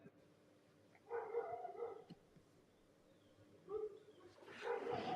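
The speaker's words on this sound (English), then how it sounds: "Love your dog's barking." A neighbor's dog barks in short bursts a short way off, several yelps spread across a few seconds with quiet gaps, fairly faint over low background hum, with no talk.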